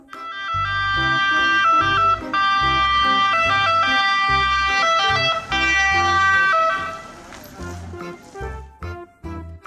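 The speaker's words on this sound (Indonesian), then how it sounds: "Mobil ambulans." A toy ambulance siren blares loudly in a bright, electronic two-tone wail, then cuts into choppy bursts near the end.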